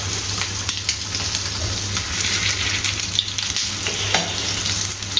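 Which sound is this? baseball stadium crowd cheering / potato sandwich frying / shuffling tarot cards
potato sandwich frying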